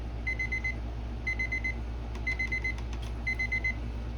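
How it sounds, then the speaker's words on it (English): A kitchen timer rings in repeated bursts of rapid high-pitched beeping, four clusters spaced evenly over a steady low background hum, with a few brief clicks between them. "I'm gonna stop that timer, y'all."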